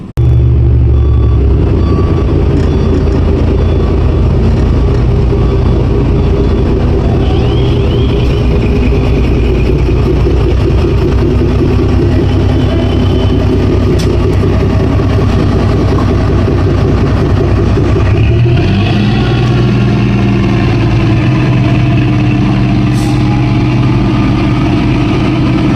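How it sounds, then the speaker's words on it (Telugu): A Shan company dual-engine locomotive with a center cab runs with a loud, steady, deep diesel drone, close and unbroken, with a shift in pitch partway through. "అది షాన్ కంపెనీ వల్ల డ్యూయల్ ఇంజన్ లోకోమోటివ్"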